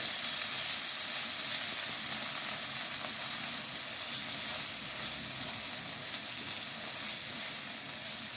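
Tomato and garlic gravy for palak paneer sautés in a pan with a steady, close, continuous sizzle and hiss from start to finish, without any talking.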